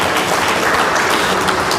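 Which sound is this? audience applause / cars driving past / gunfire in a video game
audience applause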